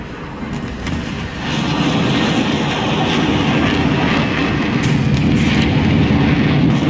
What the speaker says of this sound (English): While passing planes can blow your eardrums.